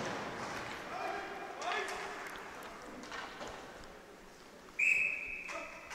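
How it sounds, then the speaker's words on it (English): A referee's whistle at a high school hockey game in an ice rink gives one sharp, shrill blast near the end, rising above a steady hum of arena crowd noise. "the whistle finally blows for an icing"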